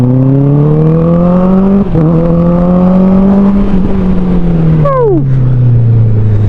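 A Honda CBR 650R four-cylinder engine without its dB killer revs loud and close, a steady high-pitched wail that sags briefly, climbs, then drops with a quick downshift blip; a rider shouts once.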